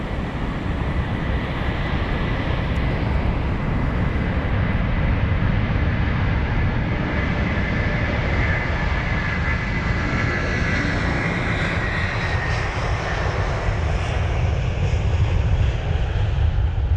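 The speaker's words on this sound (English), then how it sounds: "So loud, this A330." Delta Airbus A330-200 taking off from London Heathrow, a loud, sustained jet engine roar that holds steady for the whole stretch, heard from a distance with no talking.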